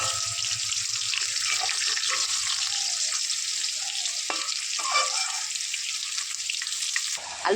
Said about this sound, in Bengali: আলুটা লাল লাল করে ভাজা হয়ে গেছে